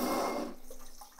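A bidet's water spray hisses loudly at first, then eases to a softer, steadier trickle with the pressure turned down.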